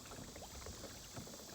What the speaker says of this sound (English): you can see how fast these boats go